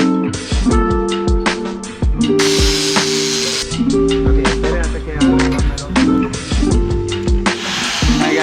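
A power tool drives and tightens bolts in repeated whining bursts of a few seconds each, some rising in pitch, broken by short pauses and sharp clicks. Voices can be heard in the background between the bursts.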